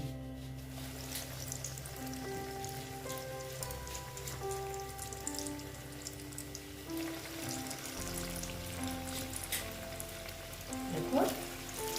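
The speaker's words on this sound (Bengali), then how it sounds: "এই এখন আমি ভেজে নিচ্ছি" Steady crackling sizzle of egg chops deep-frying in hot oil, continuous throughout with a sustained background hum and a brief louder clatter near the end.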